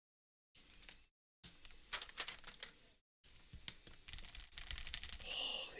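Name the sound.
keyboard keys being typed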